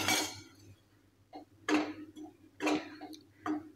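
A spoon stirs mung flour roasting in ghee to break up lumps for mung dal ladoo, making rhythmic scraping clinks against the pan about once a second, close and fairly quiet.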